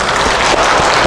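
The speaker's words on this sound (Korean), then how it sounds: "환영의 박수." Church congregation applauding to welcome a visitor during a Korean Presbyterian worship service in Toronto, heard as a loud, dense, continuous wash of many hands clapping close by.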